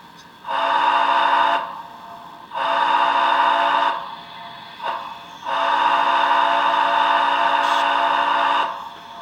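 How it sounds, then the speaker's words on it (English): A big steamboat-style whistle on an articulated HO-scale model steam locomotive blows three long, loud, steady chime blasts, the last the longest, with short quiet gaps between them. "I just assumed then that they probably would use something like the big steamboat whistle,"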